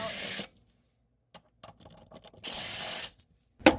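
A power tool spins out 14 mm seat bolts on an Acura/Honda, with two sustained whirring bursts separated by quiet clicks and handling noises, plus a short sharp burst at the end.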